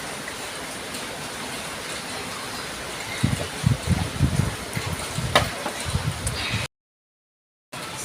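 Steady rain falls outdoors in a hiss of drops and runoff, growing louder and more textured midway, with low rumbling patter, before a brief silent gap near the end.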